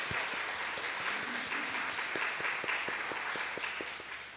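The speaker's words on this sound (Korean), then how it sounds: "감사의 박수 한번 했으면 좋겠어요." Church congregation giving a round of thankful applause, a steady mid-level patter of many hands with individual sharp claps standing out, fading slightly toward the end.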